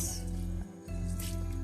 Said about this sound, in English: The water is boiled. I'm going to be adding the rice to this.